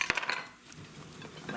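Knife cutting onions on a board for Spanish rice: a quick cluster of sharp metallic clicks and taps up close, then a quieter stretch with soft scraping.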